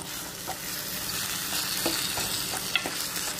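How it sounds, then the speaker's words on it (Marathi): Ground masala paste sautéing in a pan for a dried bombil and knol-khol curry, a steady, close sizzle with occasional soft stirring clicks and scrapes throughout. "पूर्ण वाटण टाकायचे आणि परतून घेऊया"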